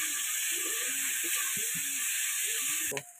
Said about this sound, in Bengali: সবকটি মশলা দিয়ে ভালো করে নেড়ে চেড়ে ভেজে নেব।